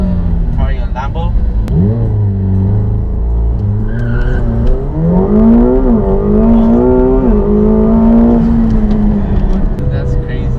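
McLaren 720S launching with launch control, the engine roaring up through rising revs with a gear-change dip, loud and close inside the cabin as passengers shout and react.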